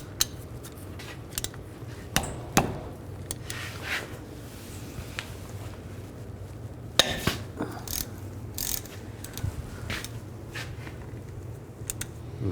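A T55 wrench loosening brake caliper slide bolts on a 2002-06 Chevy Avalanche, quiet ratcheting clicks and metallic clinks in short irregular bursts close by, with no talking.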